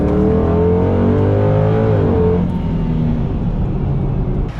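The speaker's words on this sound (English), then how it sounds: "when you want to floor it, it just goes just like that" A 2005–2009 Mustang GT fitted with a JLT Series 3 cold air intake accelerates hard, its loud V8 roar climbing through the revs alone, then easing off into a steady, fading drone.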